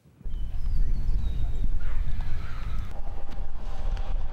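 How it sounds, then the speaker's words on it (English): Harnessed horses hitched to a wagon at an outdoor Western heritage event, with hoof clopping, snorts and a whinny close by over steady wind and outdoor rumble, continuous throughout. "Hooked and harnessed and ready to go, these horses know what it takes to pull a wagon."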